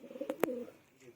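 A large male pigeon gives a short soft coo with a couple of brief throaty pulses, close and fairly faint, nothing else around it.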